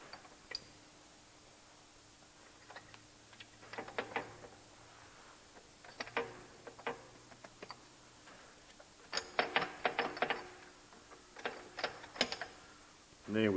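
Gearbox shaft on a Massey Ferguson 135 6-speed tractor being turned to line up splines, faint metallic clicks and clunks in scattered bursts, growing busier toward the end, recorded close in a quiet workshop.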